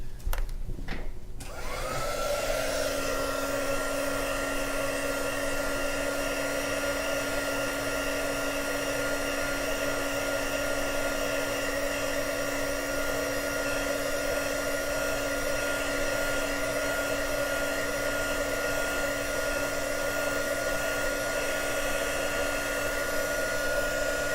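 A hair dryer switches on after a brief clatter and runs with a steady, even whirring hum for the rest of the time, drying a Chinese ink painting; no talk over it.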